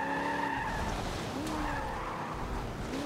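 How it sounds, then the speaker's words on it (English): A race car skids hard after a too-quick e-brake pull in the Forza Motorsport 7 video game, with a loud continuous engine whine and tire screech that bends in pitch across the whole stretch. "I just pulled that e-brake just a little too fast right now."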